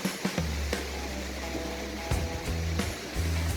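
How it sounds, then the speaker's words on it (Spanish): Roaring, steady rush of the Pailón del Diablo waterfall in Ecuador, a dense continuous wash of falling water with a few low thumps, heard close and loud with no voices. "El Pailón del Diablo es una cascada en Ecuador."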